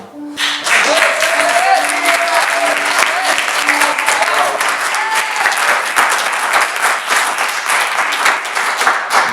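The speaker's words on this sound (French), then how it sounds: "Est-ce qu'on peut applaudir pour le Seigneur vraiment de tout notre cœur?" A church congregation applauds for God, a loud, sustained wash of clapping from many hands, with voices calling out faintly beneath it early on.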